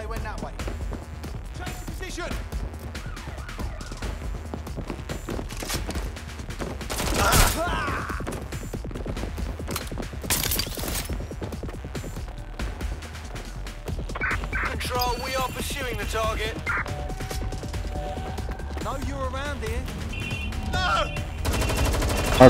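Sustained gunfire in Watch Dogs Legion, with dense bursts of automatic and single shots cracking almost continuously over game noise, with a few louder blasts and occasional voices mixed in.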